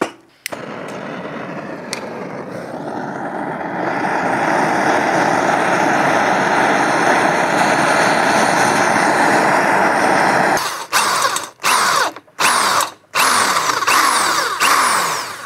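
Drill bit boring out a stuck, heat-treated bolt on a Kawasaki ZZR 1100 being restored, a steady loud whirring grind sustained for about eight seconds, then several short on-off bursts near the end, with no talk.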